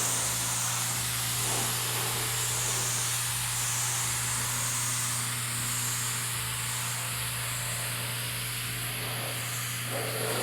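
A steady, continuous hiss of a spray bottle spraying down a car, close and loud, running throughout over a constant low hum.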